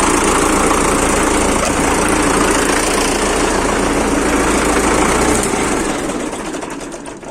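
A YuMZ-6 tractor engine, converted to an electric starter, runs loud and steady close by with a constant rumbling drone, then fades somewhat in the last seconds.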